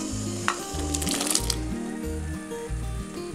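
Grapes tipped into a pot of vigorously boiling water, giving a steady bubbling sizzle with a brief bright splash and clatter as they drop in, all close and fairly loud.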